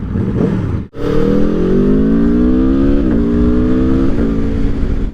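An Aprilia Tuono V4 Factory motorcycle engine revs hard and close, a loud sustained rising howl broken by a brief dip and a couple of throttle blips.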